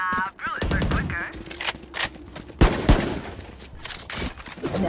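Gunfire in Valorant, rapid bursts of automatic shots and single sharp cracks mixed with game effects, loud and close, with a voice speaking briefly over the action.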